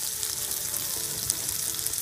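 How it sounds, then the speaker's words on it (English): Steady, close sizzling and crackling of lardons frying in a hot pan, a continuous hiss with small pops, no voices. "Just frying up the lardons just to make sure they're nice and crispy"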